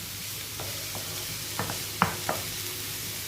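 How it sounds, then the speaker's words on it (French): Vegetables with tomato frying and sizzling in a pan for vegetable lasagne with minced meat: a steady close hiss broken by a few soft clicks and scrapes of stirring. "Pendant que les légumes sont en train de cuire"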